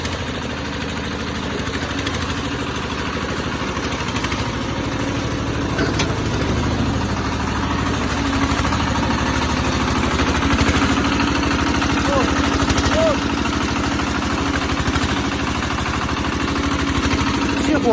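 A concrete pump's engine starts and runs, a steady loud diesel drone with rattling vibration that holds for the whole stretch, nearby and without a break.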